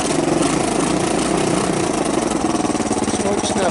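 A 1983 Honda ATC 200E three-wheeler's small single-cylinder engine runs close by at a fast, choppy idle, loud and steady with rapid pulsing throughout.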